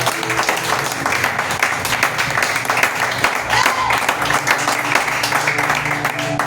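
A church congregation claps during a worship service in a continuous, fairly loud crowd of hands, with a low background hum and faint voices mixed in.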